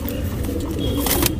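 A tournament racing pigeon of an old bloodline, kept in Bangalore, coos in low, soft rolling phrases that run steadily with no talking.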